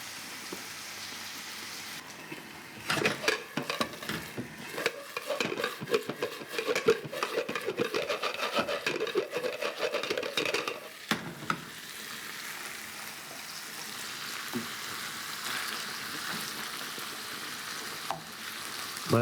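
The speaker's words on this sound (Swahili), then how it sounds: "lakini kwanza wacha tukoroge zile viazi" Potato wedges fry in a pan as they are stirred, giving a steady sizzle with bursts of scraping and clattering from the stirring, then a calmer, quieter sizzle.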